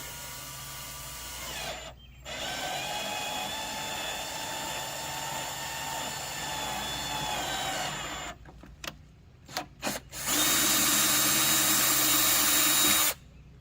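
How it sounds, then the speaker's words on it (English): A screw is driven in with a bit holder from the back side while fitting an accessory to a Ford Bronco. A steady motorized whine runs for several seconds, then short stuttering bursts, then a louder sustained run, with no talking. "we're just going to insert the screw with the holder on the back side here. This is a little quicker method than just a single Allen wrench"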